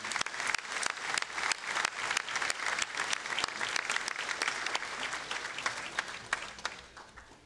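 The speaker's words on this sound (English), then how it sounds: "Everybody, round of applause, please." Sustained audience applause at an annual champions' breakfast honoring award recipients, a dense steady wash of many hands clapping that holds for several seconds before easing slightly toward the end.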